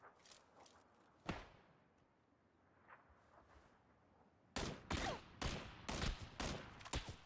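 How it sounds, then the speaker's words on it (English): Gunfire in the video game PUBG: a single sharp shot early on, then a dense run of loud, rapid bursts filling the last few seconds, with quieter scattered cracks between. "they're shooting each other"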